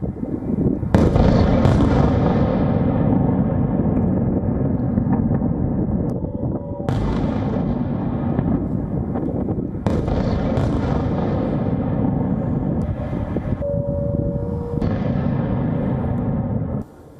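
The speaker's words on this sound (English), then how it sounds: "The first explosions came less than 3 minutes after an official air raid warning late Wednesday night" Missile and drone strike explosions boom over Kyiv at night, four heavy blasts spaced several seconds apart, each a sharp loud crack followed by long rolling rumble and echo that fills the gaps between them.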